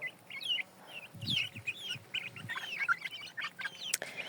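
Backyard chickens and young chicks clucking and cheeping nearby, a busy overlapping mix of calls with a few low clucks.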